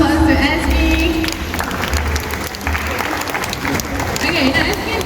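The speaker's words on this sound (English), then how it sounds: "Let's give a round of applause to Esme." An audience at a show at Singapore Zoo applauds steadily for several seconds, a loud, dense, continuous clapping with some crowd noise and voices mixed in.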